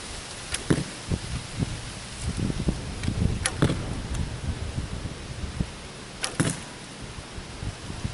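Arrows shot from a bow at an outdoor target land with several sharp, distinct clacks spaced a few seconds apart, heard against a steady wash of wind and rustling.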